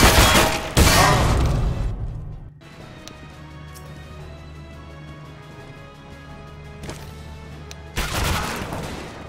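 A flashbang and gunfire in a video game: a loud burst of sharp cracks at the start, a quieter stretch with a steady low hum and a few faint pops, then another loud volley of shots at the end.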